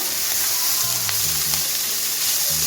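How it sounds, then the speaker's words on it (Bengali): Greens with cauliflower leaves frying in a pan while being stirred continuously, a steady close sizzle with scraping stir sounds, no voices. "অনবরত নেড়ে চেড়ে শাকটাকে আমি রান্না করে নেব"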